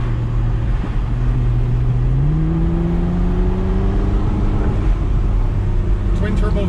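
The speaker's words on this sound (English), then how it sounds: "McLaren MP4-12C. First time driving McLaren." A McLaren MP4-12C with a 3.8-litre twin-turbo V8 accelerating from inside the cabin, a steady low engine drone that climbs in pitch as it gathers speed, loud and close.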